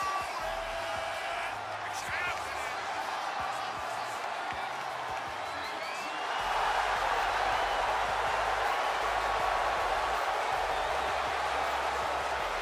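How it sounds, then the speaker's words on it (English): A large WWE wrestling arena crowd roars and cheers in ovation for Bianca Belair, a steady wall of noise that swells louder about halfway through and holds, with clapping mixed in. "Listen to this ovation. The WWE Universe loves cheering on the EST."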